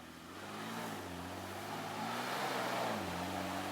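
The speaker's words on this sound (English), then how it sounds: "Engines echo through the forest." Off-road trucks grind through deep forest mud, their engines giving a loud, sustained droning rumble with rising and falling harmonic tones as they rev and labour, growing slightly stronger toward the end.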